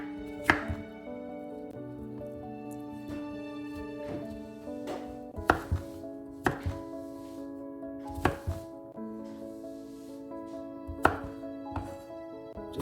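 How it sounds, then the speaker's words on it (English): A knife chops peeled plantain into small cubes on a cutting board, sharp irregular thuds spaced a second or so apart over a steady sustained background tone, close and clear with no speech. "Once we remove our skin, then we're just going to cut this up so it is easier to blend."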